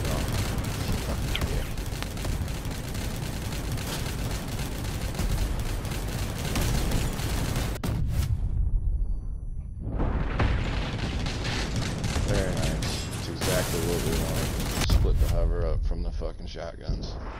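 Shotgun blasts and combat effects in a video game, heavy booming bursts over a dense, noisy mix, with a sudden cutout and swell around the middle and a player's voice talking throughout.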